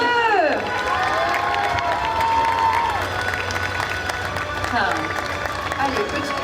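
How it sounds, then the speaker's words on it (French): Crowd at a geek convention cosplay parade cheering, shouting and clapping for costumed participants, a lively sustained roar with whistles and voices calling out over the applause. "Faites les du bruit pour applaudir"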